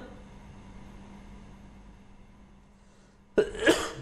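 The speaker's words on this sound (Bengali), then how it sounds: "সরি, জানি না কাশি হচ্ছে, করোনাও হতে পারে" A man coughs once, a loud, close burst at the end after a quiet hum, with no talk.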